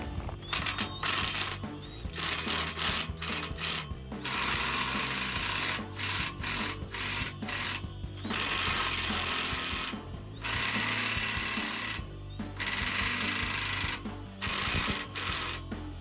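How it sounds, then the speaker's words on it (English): A pneumatic impact wrench with a 15 mm socket hammers on exhaust clamp bolts while a Flowmaster FlowFX Extreme single exhaust is fitted to a Tundra, loud close rattling bursts of one to two seconds with short gaps between them. "I'm going to use a 15 mil socket on a impact."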